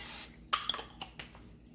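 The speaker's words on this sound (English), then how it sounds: "Now I'm going to spray the inside of my crock pot with some cooking spray" Walmart vegetable oil cooking spray hisses into the inside of a crock pot in a short, soft burst, followed by faint light clicks and handling noises at close range.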